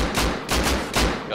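Enemy gunfire in the video game Rusty Goons comes as three loud, booming bursts about half a second apart, each a sharp blast with a short tail.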